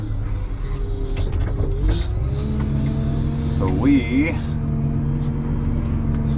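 A manure-hauling truck's engine hums in a low, steady drone with a faint shifting whine while it is loaded, and someone talks over it.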